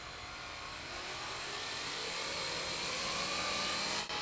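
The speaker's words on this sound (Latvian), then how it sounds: "Pēdējais mēģinājums ar parastajiem propelleriem. Ak, tas skan tik vienmērīgi." A drone flying on regular propellers gives a smooth, steady whirring buzz that holds at an even, fairly faint level for a few seconds before cutting off abruptly near the end.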